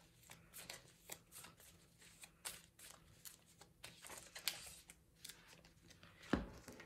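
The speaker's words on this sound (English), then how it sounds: "You want to shuffle the language cards." Playing cards shuffled by hand in a series of crisp riffling bursts, quiet and close, with brief pauses between shuffles.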